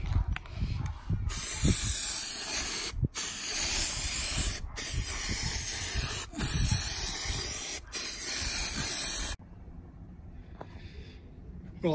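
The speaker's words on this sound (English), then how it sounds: "So what you want to do is spray the piece." Spray can of rust-effect paint hissing in a series of bursts, about six long sprays separated by brief pauses, loud and close, followed by a quieter stretch at the end.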